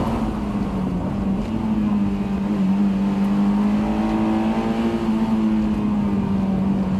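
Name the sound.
Honda S2000 car engine driving at low revs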